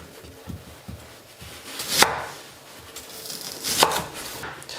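A kitchen knife chopping food into thick 1 cm rings indoors, with two sharp, hard chops standing out between softer, quicker taps and cuts, close and clear with no talking.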